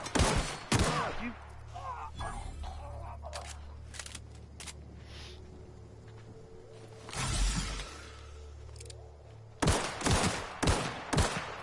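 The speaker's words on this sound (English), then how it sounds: "Those are warning shots." Warning gunshots in The Outer Worlds, with loud sharp shots near the start, a burst in the middle and a cluster of rapid cracks at the end, set against a steady game ambience.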